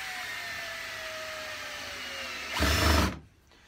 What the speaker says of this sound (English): I ended up drilling out all of the holes a bit so I could use smaller screws.